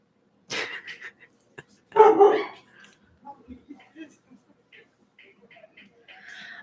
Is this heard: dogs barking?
yes